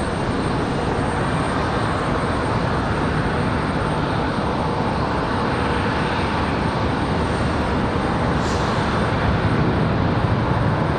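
A Southwest Boeing 737 Max jet lands at Raleigh-Durham International Airport, giving a steady, loud broadband jet roar that holds throughout without any pauses.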